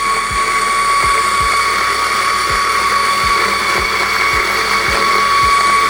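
DF54 coffee grinder runs loud and continuously with a high motor whine, a regular ticking or knocking repeating about twice a second as the beans clog, with no talking.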